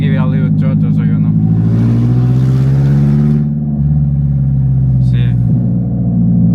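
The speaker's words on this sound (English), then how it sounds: "I just give it a little throttle so you know." A car engine idles with a loud low rumble, then revs up briefly under a blip of throttle before settling back down, recorded up close.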